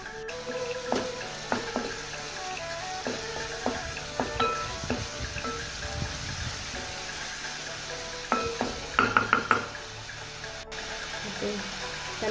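Ginger garlic paste fries in a pan with a low, steady sizzle, broken by scattered metallic clinks and scrapes of utensils, including a quick cluster of knocks near the end.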